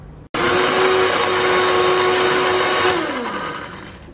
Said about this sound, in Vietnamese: Bây giờ thì mình sẽ xay dâu,